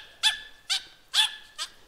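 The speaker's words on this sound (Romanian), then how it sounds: "le latră pe toate" A small dog barks four times in a counting trick act at a staged show, with sharp, evenly spaced barks close by and nothing else around them.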